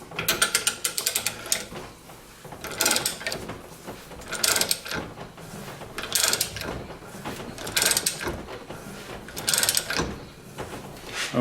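Harbor Freight Maddox ball joint press kit forcing a ball joint into place, giving repeated bursts of ratcheting, clicking mechanical strokes in a steady rhythm of about five pulls, close and moderately loud with no talking.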